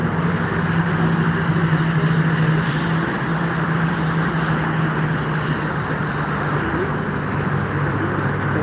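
An airliner at Frankfurt airport gives a constant broad jet roar throughout, loud and steady, with a low hum underneath and no clear rise or fall.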